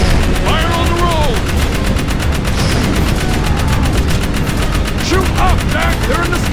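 Sustained gunfire in the video game Jak 3, a dense, rapid machine-gun stream that stays loud and continuous throughout, with whooshing effects and faint voices underneath.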